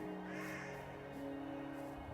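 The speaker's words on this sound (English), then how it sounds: "That's a loud crow." A loud crow caws in a Minecraft world on a multiplayer server while someone explores a base, the harsh calls standing out over a steady ambient drone.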